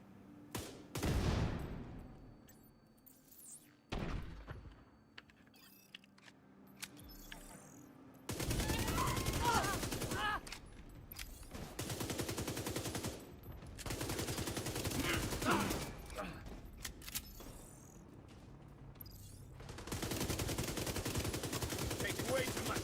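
Heavy gunfire in a shooter video game, long sustained bursts of automatic fire in several waves separated by brief lulls, loud and close, with scattered single shots early on.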